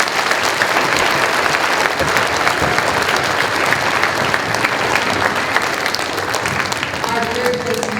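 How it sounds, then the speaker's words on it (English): Steady, dense applause from a school assembly audience at a Veterans Day event, loud and sustained throughout, with no pause in the clapping. "let's give all of our middle school students a round of applause"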